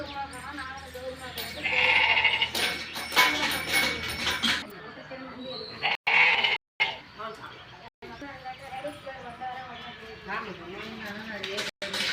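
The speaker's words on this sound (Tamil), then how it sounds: "செம்மறி ஆடு தான் பார்த்தீங்கன்னா இந்த சாமிக்கு வந்து வெட்டணும்" Sheep bleat in short, wavering cries near a village temple where livestock is kept for a ritual offering. The calls are mixed with people talking and other farmyard noise.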